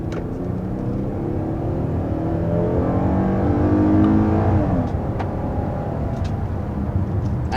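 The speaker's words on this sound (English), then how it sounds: "there we go with an initial acceleration in the 2022 Telluride" The 3.8-liter V6 in a 2022 Kia Telluride accelerates from inside the cabin with a steady, rising engine drone and tire and road rumble. The pitch climbs and then eases off after about four seconds.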